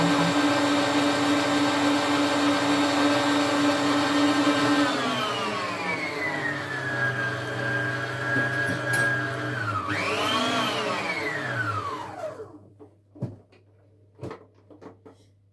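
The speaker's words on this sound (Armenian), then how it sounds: "Ձուն եւ շաքարավազ այնքան ենք հարում, որ տավալով բարձրանայի 3 անգամ։" An electric hand mixer whirs steadily, loud and close, as it beats eggs and sugar into sponge cake batter for an apricot-jam roll; its pitch drops and then rises again as the motor speed changes, before it cuts off into a few soft knocks.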